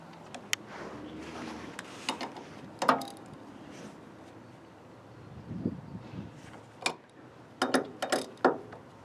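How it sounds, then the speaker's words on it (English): A ratchet tightening the suspension bushings on a 1961 Ford Falcon, with scattered bursts of quick metallic clicks and clanks, close by and moderately loud, with quiet pauses between turns. "I'm just going to tighten up all the bushings"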